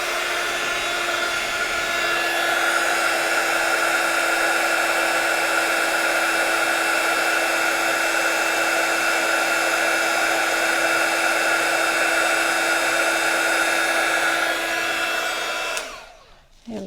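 A heat gun blows steadily on embossing glaze at close range, giving a loud, even whoosh that holds for about fifteen seconds before it cuts off.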